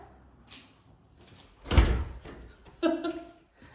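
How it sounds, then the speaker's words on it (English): A household door is shut once near the middle, giving a single loud thud with a short rattle, after a few quieter clicks and followed by a brief creaking or scraping sound; no one speaks. "I'll shut the door then, darling, shall I?"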